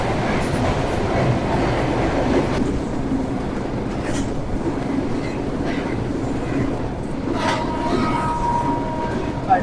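A train running through open green countryside in northern Bangladesh between Nilphamari and Phulbari, heard from on board as a steady, loud rumble and rattle of the carriages with a few brief creaks and clanks.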